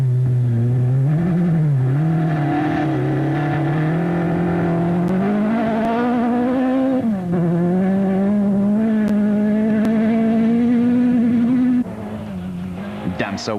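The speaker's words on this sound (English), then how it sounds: "He was pushing as hard as he dared, the car fishtailing its way through the stage" A rally car, running on only three wheels, fishtails hard through a gravel stage, its engine droning loud and close with rising and falling revs, tyres scrabbling, and a commentator talking over it.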